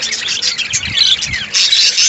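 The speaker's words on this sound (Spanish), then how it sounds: "Acá los pericos que tengo, las 20 parejas" A colony of twenty pairs of budgerigars in an aviary keeps up dense, overlapping high chirps and chatter, loud and close, with soft low thumps beneath and no talk.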